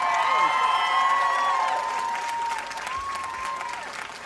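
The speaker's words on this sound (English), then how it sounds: "I was just telling them to give you a round of applause" A large audience claps and cheers at a live concert, with dense, sustained applause, scattered whoops and some tonal sound carrying through.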